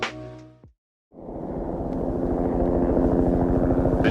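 Helicopter rotor and engine noise building from quiet into a loud, steady, thudding drone, carrying polar bear researchers over Hudson Bay; a brief different sound opens before a short silence.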